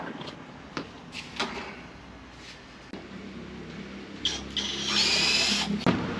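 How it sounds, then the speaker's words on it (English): A screw is tightened on a camera bracket with a power driver, heard as sharp clicks and knocks and then a short close whirring run, among handling noises. "So we're just tightening up the screw on the bracket."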